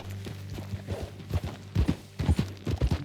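Horse hooves clip-clop in a steady gallop-like rhythm in Red Dead Redemption 2, close and moderately loud, with muffled ambience beneath.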